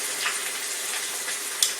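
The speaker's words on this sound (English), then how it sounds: "Them hamburger patties, this is a beef patty. Oh man, they've been over there for a half hour now. I hear them sizzling." Beef hamburger patties sizzle while frying in a pan, a steady bright crackling hiss with a few sharper pops, heard close and alone without talk.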